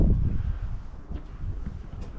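Gusty wind buffets the microphone in low rumbling bursts at a doorway of Old Gayton School, Norfolk, with faint rustling over a steady blustery roar.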